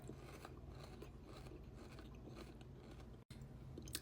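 Steady, close crunching and chewing of something crisp, continuous dense crackle with a brief pause near the end, no talking.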